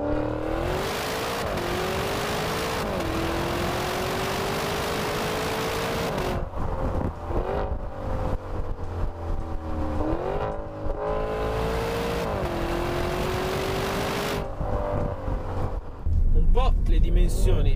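A Maserati Levante GTS SUV accelerates along a narrow road, its engine note rising and falling through several gear changes, heard from inside the cabin and growing louder at the end.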